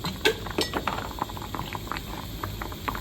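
Pork and curry paste being stir-fried in a pan with a splash of water, bubbling under clinks and scrapes of a utensil against the metal, close and busy, no talk.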